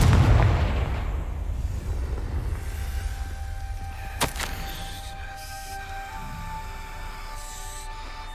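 Confringo blasting spell explosion in the video game Hogwarts Legacy: a heavy low boom at the start that decays into a long rumbling tail, followed by a sharp crack midway and faint ambient tones.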